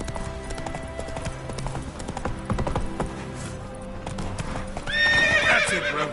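Roach, the horse in The Witcher 3, gallops with rapid rhythmic hoofbeats up close, then lets out a loud whinny near the end.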